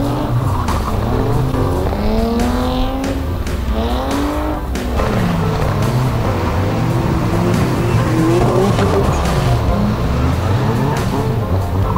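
The Mk2 Ford Escort drift car 'Maude' squeals its tyres at a drift day, engine wailing up and down in loud, close sweeps with sustained screeching tyre noise throughout.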